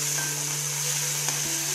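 Chicken pieces coated with chili powder are mixed in a pan over a steady sizzle with a low constant hum, plus a faint scrape or two.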